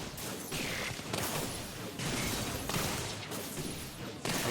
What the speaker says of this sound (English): Hypercharge this plasma cannon.